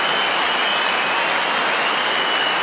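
A snooker crowd gives a standing ovation after a 147 break, dense sustained applause filling the hall evenly and loudly throughout.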